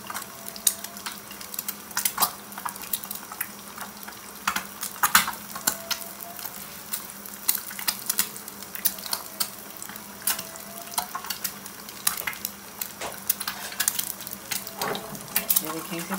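An egg frying in a pan as it is stirred to overcook the yolk, steady close sizzle with scattered scraping and clinking of a utensil against the pan.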